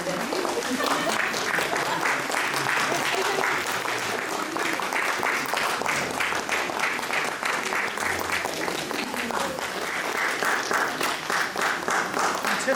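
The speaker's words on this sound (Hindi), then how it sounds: "जोरदार तालियों से स्वागत" Audience at a panchayat secretaries' farewell ceremony at a training institute in Ranchi claps steadily in a sustained, dense round of applause that holds at an even level throughout, with faint voices underneath.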